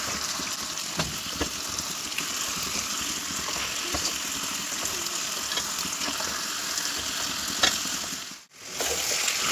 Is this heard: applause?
no